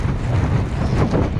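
Strong wind buffets the microphone on Brighton Beach, New York, during a winter blizzard, a loud, continuous low roar with gusting swells and no voices.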